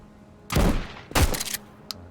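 Two heavy buckshot shotgun blasts in a hardcore survival video game, each a loud booming burst with a trailing rumble, spaced about half a second apart, followed by a faint click.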